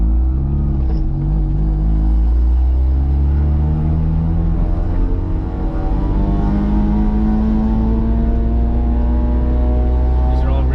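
A four-rotor rotary engine in a Corvette idles close and loud with a smooth, steady, buzzing drone. Its pitch drifts slightly upward and there is no sharp revving.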